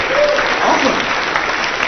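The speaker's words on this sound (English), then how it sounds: "You guys still have enough energy to be able to clap at the end of the day?" Audience clapping at the close of a talk on SEO, a loud, steady burst of applause from a sizable crowd that fills the whole moment, with faint voices in the room.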